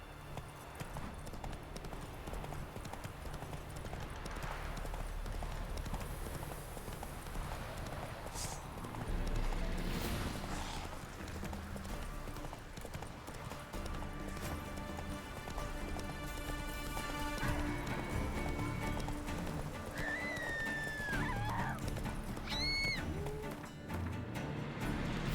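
Roach the horse gallops in The Witcher 3, a steady clip-clop of hooves running throughout with a brief whinny and a few bird-like chirps near the end.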